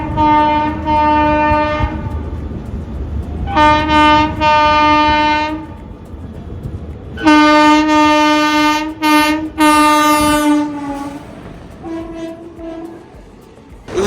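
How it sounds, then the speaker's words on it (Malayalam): The Okha Ernakulam Express hauled by a WAP4 electric locomotive passes loudly and close, sounding repeated long two-tone horn blasts over the rumble of the train. "ഈറോഡ് ഷെട്ടിന്റെ ഒരു WAP4മായി ഇതേ പോകുന്ന നമ്മുടെ ഓക്ക എറണാകുളം എക്സ്പ്രസ്"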